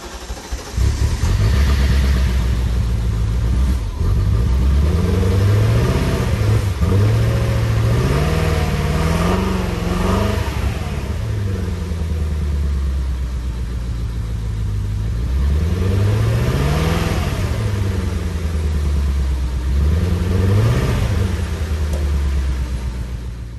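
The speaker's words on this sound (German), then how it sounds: "Was man hier leider deutlich raushört, ist, dass der nicht auf allen 8 Zylindern läuft." A BMW E30 M3 engine idling roughly and misfiring, a loud, continuous uneven rumble with wavering pitch and periodic surges as it runs on only seven of its eight cylinders, heard close up with no voices.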